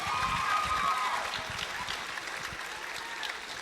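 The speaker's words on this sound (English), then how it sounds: "Another round of applause for our last year's royalty." Audience applause at a local scholarship pageant, a steady crowd of clapping hands with light cheering, loudest at the start and easing slightly while continuing to the end.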